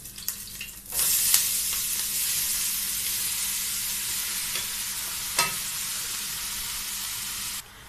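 Onions and peppers dropped into hot oil in a pot: a loud, dense sizzle bursts in after a second and holds steady, with a couple of faint stirring knocks, before cutting off near the end.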